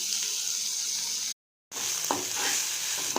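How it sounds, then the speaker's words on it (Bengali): Onions and garlic frying in oil with black cumin seeds give a steady close sizzle with a few sharp stirring scrapes, broken by a brief silent gap near the middle. "এবার এই তেলে একটু কালো জিরে ফোড়ন দিয়ে পেঁয়াজগুলোকে ভেজে নেব"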